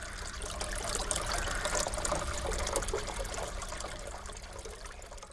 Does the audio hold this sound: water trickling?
yes